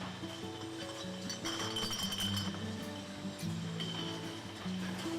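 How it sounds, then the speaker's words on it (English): Glass bottles clink against one another on a bottling conveyor belt, a steady close chatter of light glassy taps over a constant machinery hum. "the bottles are taken out of their packaging and put on a conveyor belt"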